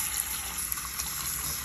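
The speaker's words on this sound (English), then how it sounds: "Here in a second, we'll put it in cold water." Cold water gushes and sloshes in a steady, close rush as a colour-change toy is put into it.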